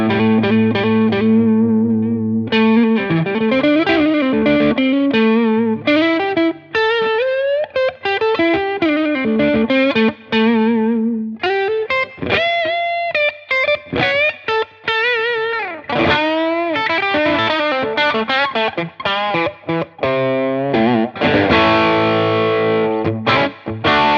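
Electric guitar played through an Amazon Basics overdrive pedal, gain a quarter up, tone about 60%, level full, crunchy distorted notes and chords in a loud, continuous riff with short pauses between phrases.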